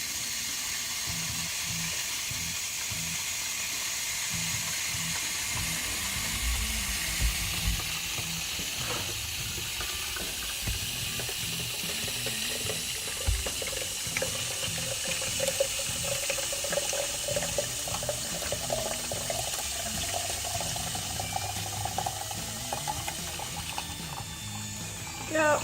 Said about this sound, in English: we're going to add water to fill. I recommend using distilled water, but we're going to be using hose water for this part.